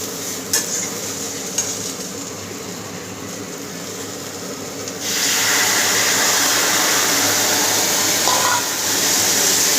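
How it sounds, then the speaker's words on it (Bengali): Ground spice paste stirred and fried in a pan, quiet scraping at first, then a louder, steady hissing sizzle that fills the rest, with no voices. "এবার ভালো করে কষিয়ে ভালো করে এবার কষিয়ে নেবো।"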